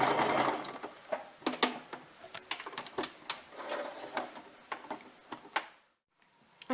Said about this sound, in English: Now we're just going to gently sew along there, and you'll notice that the sewing machine will jump the pins.